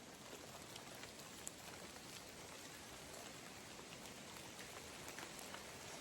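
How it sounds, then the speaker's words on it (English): Soft, steady drizzling rain patters continuously at low volume in windy weather, an even hiss of drops with no talking. "It's still pretty windy and drizzling rain."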